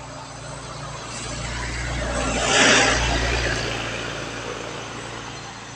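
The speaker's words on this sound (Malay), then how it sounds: "Sebiji lori tapi ada kelendan dia." A single lorry passes on the quiet old Karak road, swelling from a distant rumble to a loud broadband roar near the middle, then fading away, with low engine drone throughout.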